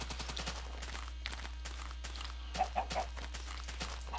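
A chicken in a Minecraft-style video game gives short clucks, with a cluster of clearer clucks late in the clip, heard over soft repeated footstep-like thuds and a constant low background drone.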